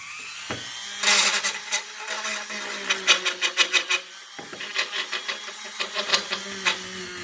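A pistol slide is rubbed by hand against a piece of wood for polishing, giving close, scratchy strokes that come in quick repeated bursts with short gaps and a soft scraping bed underneath.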